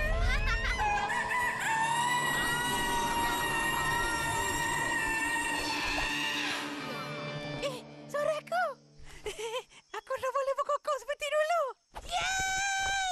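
A long, strained rooster crow rings out at first, then broken, warbling crowing attempts follow in bursts, with speech-like voices mixed in, from an animated story.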